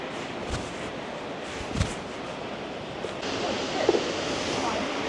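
Foster Falls rushes as a broad, steady roar of falling water heard from the trail, continuous and moderately loud, with a few soft knocks and footstep-like thumps over it.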